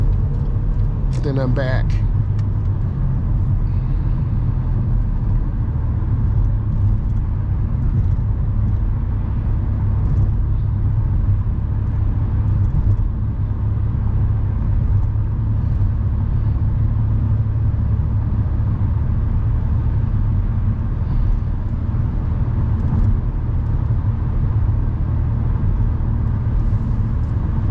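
A car pulls out into traffic and accelerates, its engine a steady low rumble with road noise throughout, while a driver talks briefly over it near the start.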